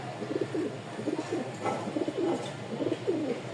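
Pigeons in a loft give soft repeated cooing calls, several overlapping low coos in short phrases, fairly close and moderately quiet over a faint background hum.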